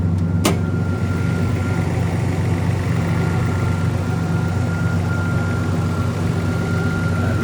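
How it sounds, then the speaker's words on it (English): A 1986 Toyota Supra with a five-speed, fitted with a new battery, wires and spark plugs, idles smoothly in a steady, even drone with no voices, broken by a single brief click near the start. "It's idling smooth."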